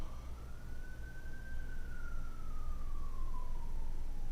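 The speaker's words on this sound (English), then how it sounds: "Even with the sirens in the background" A siren wails steadily in the distance, its tone rising slowly and then falling, over a constant low rumble of traffic.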